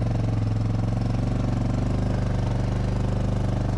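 A vehicle engine towing a sled along a trail chugs steadily and loudly at an even idle-like rhythm, close up and unbroken throughout with no other sounds standing out.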